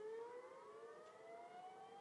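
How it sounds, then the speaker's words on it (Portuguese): Tsunami warning siren sounding on the Fukushima coast after a strong earthquake: a steady wailing civil-defense tone, slowly rising in pitch, heard from a distance and fairly faint against open outdoor air. "Olha o barulho da sirene, né?"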